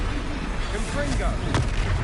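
A Confringo blasting spell detonates in Hogwarts Legacy, a dense, rumbling burst amid continuous battle noise with a sharp crack near the middle, loud and close, with voices shouting in the scene.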